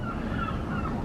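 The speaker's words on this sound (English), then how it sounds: "And some seagulls." Seagulls call over a rainy harbour at the Juneau seawalk, wavering cries repeating through the clip over steady wind, water and low background rumble.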